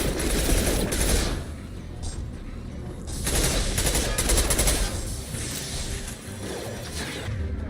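Machine pistol gunfire in the Mass Effect 2 video game, loud dense bursts of rapid shots in two main stretches, mixed with game effects and a faint voice.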